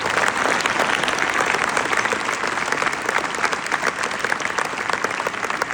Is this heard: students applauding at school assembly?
yes